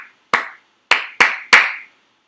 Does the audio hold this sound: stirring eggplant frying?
no